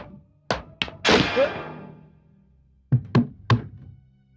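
Someone knocks on a wooden door in a Hindi horror drama: a few hard, close thuds, a pause with a rumbling crash, then another quick group of three knocks.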